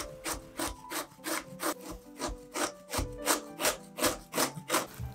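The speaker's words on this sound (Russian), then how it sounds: "Отрезаю у кабачка кончики и тру на крупной терке." A zucchini is grated on the coarse side of a grater, with rhythmic rasping strokes about two per second, close and clear, and no talking.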